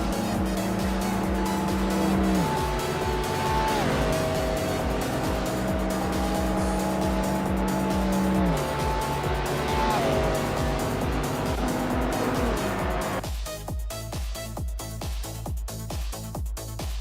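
Race cars in a racing video game roar steadily with shifting engine pitches, loud and continuous, a sharper burst of revving near the end.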